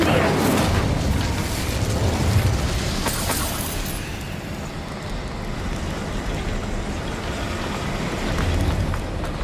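Spell-fire from the Incendio charm in Hogwarts Legacy roars as a loud, continuous burst of flame and rumble that holds steady for several seconds amid dense game sound, with a brief brighter flare early on.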